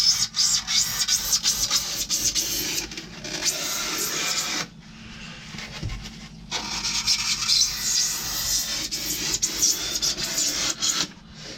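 A saw blade rasps through wood during a camper build, long scraping strokes running nearly continuously with a brief pause midway, close and fairly loud with no talking.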